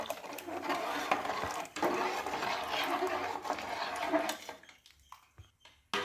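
Onion vadagam batter is stirred continuously in a hot pot on the stove, a steady scraping and clattering of utensil against metal that fades into sparse knocks near the end.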